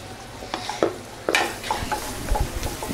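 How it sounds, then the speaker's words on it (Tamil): Garlic and onion sauté in melted butter over a medium flame, a soft steady sizzle broken by several scraping stirs and clacks of a utensil against the pan, close and moderately loud with no talking. "பூண்டு லைட்டாக வதங்கினோடனே நம்ம வெங்காயம் போட்டுக்கலாம்."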